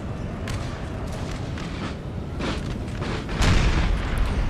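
Cannons firing on troops in Napoleon: Total War: a dense rumbling battle din with scattered booms, swelling into a heavier, louder blast toward the end.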